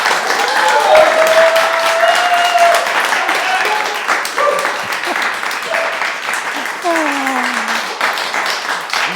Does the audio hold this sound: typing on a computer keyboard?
no